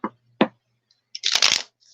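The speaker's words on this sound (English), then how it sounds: "I do want to shuffle these first." Tarot cards being shuffled by hand: two brief riffle or tap bursts early on, then a louder, denser flurry of card shuffling toward the end, close and alone with no talk.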